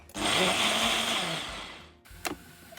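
An electric blender whirs loudly for about two seconds, grinding green chillies, ginger and garlic into paste, then stops, followed by a brief clatter.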